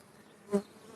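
A honeybee at a hive building wax comb on frames during rapeseed bloom gives one brief, close buzz that swells and fades within a second against a quiet background.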